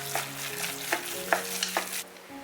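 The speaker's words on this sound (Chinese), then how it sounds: "搅拌均匀。" A utensil stirring seasoned minced-meat filling with salt, soy sauce, oyster sauce, oil, pepper and starch, making several soft, wet scraping strokes in a bowl at close range.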